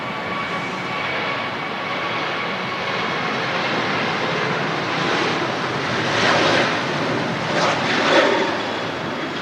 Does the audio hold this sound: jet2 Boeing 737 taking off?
yes